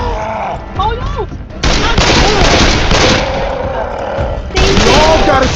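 Video game gunfire aimed at a tank, loud rapid bursts of shots in dense volleys with brief gaps, mixed with shouts and game sounds.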